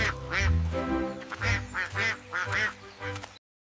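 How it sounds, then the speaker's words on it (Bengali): A duck quacks about six times in quick succession, each call a clear, nasal, fairly close honk heard on its own in a children's cartoon setting. "এটা তো হাঁস"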